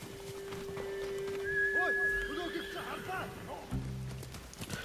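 A horse in the video game Ghost of Tsushima whinnies loudly over steady clip-clopping hooves, with a constant electronic tone in the background and a brief low thump near the end.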